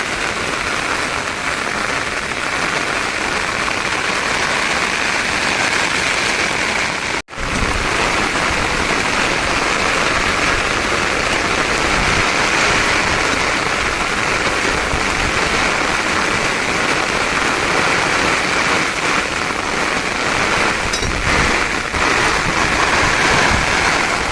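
Heavy rain pours down steadily in a village, a dense, loud, unbroken hiss of water on surfaces with one brief dropout partway through.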